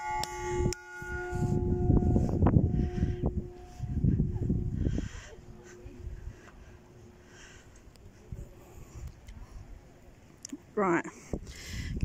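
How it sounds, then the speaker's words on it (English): A bell rung on Southend Pier, a long pier reaching into the Thames estuary, gives a few ringing tones with a lingering hum, heard amid outdoor noise and people talking nearby. "I wonder if you can ring the bell."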